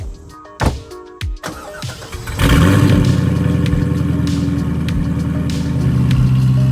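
C5 Chevrolet Corvette engine, with a few clicks and cranking bursts before it catches and settles into a loud, close, rumbling idle that swells slightly with light revs.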